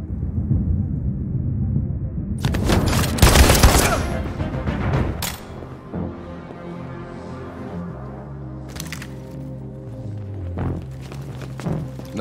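Gunfire in Detroit: Become Human: a dense burst of loud sharp shots early on, then a few scattered bangs amid a low rumbling game soundscape.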